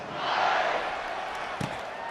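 Stadium crowd buzzing in the NCAA 26 college football video game during a Texas versus Georgia matchup, a low, steady murmur with a brief swell and a short thump near the end.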